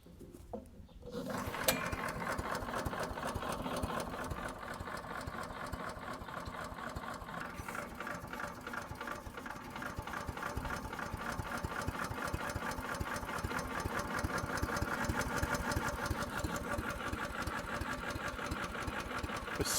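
A Harbor Freight Predator chipper shredder's small engine starts up and runs steadily outdoors, a continuous, even mechanical drone with a rapid knocking rhythm that holds at a moderate, fairly quiet level throughout.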